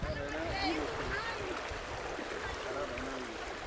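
Fast-flowing Ganges floodwater rushes past a cut-away road by a flooded village in Uttar Pradesh, a steady broad roar with some splashing, and voices murmuring faintly over it.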